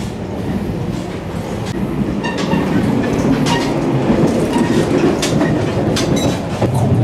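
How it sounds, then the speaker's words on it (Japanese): Steady rolling rumble and rhythmic wheel clatter from inside the KuHaYa 731 electric train, running coupled with a diesel railcar in Japan. The sound is close and continuous throughout, with no talk. "これはクハヤ731電車ですね。"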